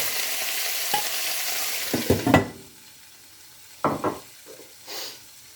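Onions sizzle loudly in a pan at first, then the frying fades and a utensil scrapes and stirs through them in a few short close bursts, cooking for an artichoke and pea tajine.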